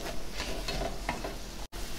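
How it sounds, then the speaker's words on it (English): Jalapenos sizzle and fry in a frying pan with a steady, close crackling hiss, one brief dropout near the end, and no talk. "All kinds of frying going on."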